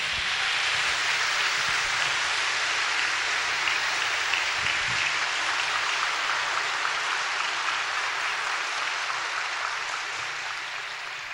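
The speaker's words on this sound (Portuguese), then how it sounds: "Então aplauda, então aplauda." A large church congregation applauds in a sustained, even wash of clapping that holds steady without pause and fades slightly toward the end.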